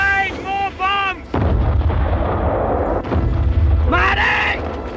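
Heavy explosions of bombs and artillery in battle boom and rumble in a dense, loud barrage, interleaved with brief whistling tones.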